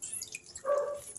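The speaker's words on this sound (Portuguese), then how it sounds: "vou espremer aqui na água" A lemon is squeezed into water, giving a brief, close, wet squish and trickle of juice dripping in, faint and over within about a second.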